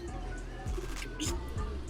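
Racing pigeons cooing at a loft, a few soft low coos repeating at irregular intervals, faint and close over background murmur.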